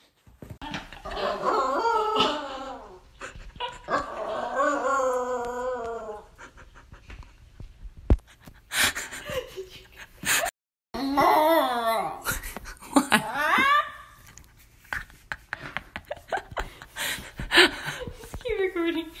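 A dog howls in drawn-out, wavering, sliding cries that come in several separate bouts, close by, with short pauses and some panting between them.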